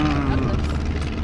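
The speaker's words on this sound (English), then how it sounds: "Oh, that plane is advertising fudge." Small propeller plane flying overhead towing an advertising banner along a beach, a steady droning buzz heard close and continuous through the short moment.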